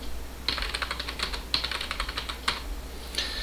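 Brief run of key presses entering a password on a computer keyboard, crisp irregular clicks at close range over a low steady hum, with no talk.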